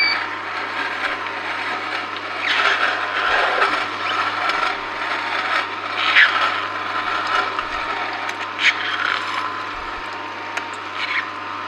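Produce pushed through an Angel Juicer with the pusher, a steady mechanical grinding and crunching with occasional knocks, close and continuous.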